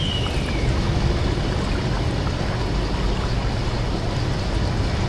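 Water flushing through a station system in the sci-fi horror game SOMA, a loud continuous rushing wash like a heavy stream, steady throughout with no voices.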